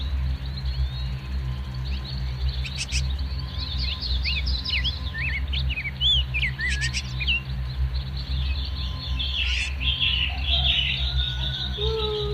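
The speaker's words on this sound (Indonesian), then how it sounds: "bisa dengarkan juga banyak suara burung-burung berkicau ya di pagi hari ya." Many small birds chirp and twitter in a morning garden full of trees and ornamental plants, overlapping calls steady through the whole stretch over a low constant background hum, with no talking.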